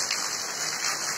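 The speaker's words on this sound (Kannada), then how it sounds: "ಇನ್ನು ನೋಡಿ ನಮ್ಮೂರಲ್ಲಿ ಫುಲ್ ಜೋರು ಮಳೆ ಬರ್ತಿದೆ." Heavy rain falls steadily on farmland in Udupi, a dense, even hiss close by with no pauses and no voices.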